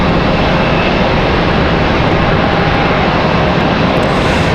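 An airliner arriving at Raleigh-Durham International Airport, a loud, continuous broadband engine roar that stays steady and near for several seconds.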